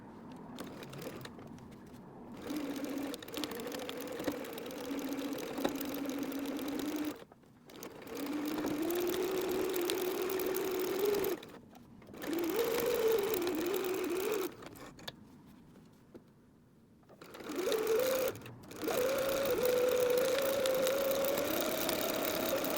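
A sewing machine quilts straight lines across a cat pillow, humming steadily in four or five long runs broken by brief pauses, its pitch shifting slightly between runs.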